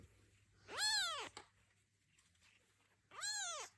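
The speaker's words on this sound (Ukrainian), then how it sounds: "Український льотний кіт." Small ginger kitten meowing twice, a clear rising-and-falling cry followed by a second one about two seconds later, close and soft over a faint hum.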